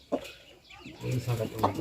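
An Aseel chicken gives a few soft clucks close by, with a voice talking quietly underneath.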